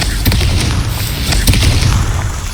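Booming, rumbling blasts of the Confringo spell in Hogwarts Legacy, loud and continuous with a few sharper bursts over a deep low roar, no talking.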